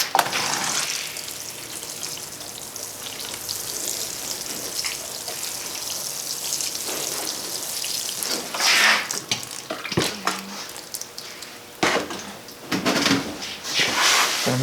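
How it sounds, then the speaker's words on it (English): Water poured from a watering can onto soil-block mix, a soft continuous splashing and trickling with scattered clatters and bursts, fairly quiet and close, no speech. "So use this watering can."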